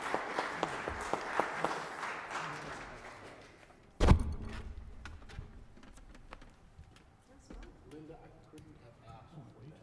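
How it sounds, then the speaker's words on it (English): Applause from a panel session audience thanking the speakers, fairly dense clapping at first that thins out, with a sharp thump partway through and scattered claps and talk afterward. "And one more round of applause for you."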